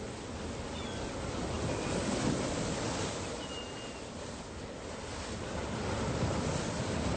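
Steady ocean surf washes onto a beach, a continuous broad roar that swells and eases across the whole stretch with some wind mixed in, no voices present.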